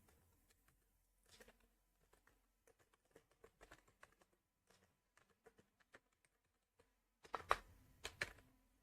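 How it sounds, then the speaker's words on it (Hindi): Fingers type on a computer keyboard in sparse, irregular clicks, quiet and close, ending in a louder flurry of keystrokes, with no voices. "ये इसको हम टाइप कर रहे हैं।"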